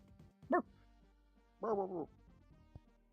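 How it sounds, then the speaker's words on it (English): A dog gives two short barks about a second apart, the second longer and louder, with quiet background and no other sounds around them. "Dog go bark."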